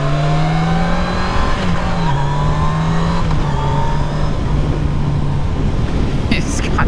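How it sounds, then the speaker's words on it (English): A 2019 Yamaha FJR 1300 ES sport-touring motorcycle accelerates hard and shifts up through the gears, its engine tone rising and dropping at each shift, loud and close under steady wind noise. "It's got some serious acceleration. You know, I'm shifting through the gears completely unnecessary here."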